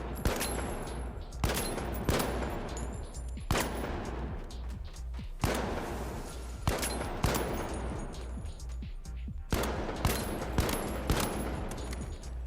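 Gunfire from a gun in the video game The Finals, a string of loud, sharp shots spaced roughly one to two seconds apart, some in quick pairs, each with a booming tail, played with a faint game soundscape underneath.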